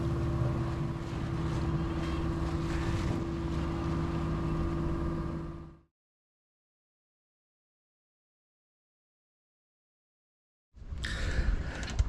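A sailboat under way off the south-facing Algarve coast of Portugal, steady broadband wind and water rush with a low hull drone for several seconds, then a long stretch of silence before the wind noise returns.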